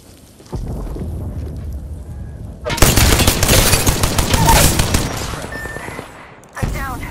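Dense bursts of automatic gunfire in an Apex Legends match, loud and continuous for several seconds with rapid crackling volleys, following a quieter stretch of ambient game noise and ending with a sharp burst at the close.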